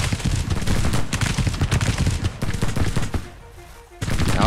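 Dense, rapid musket volleys from Civil War infantry lines in Grand Tactician, loud and continuous crackling gunfire with a brief lull before the firing resumes.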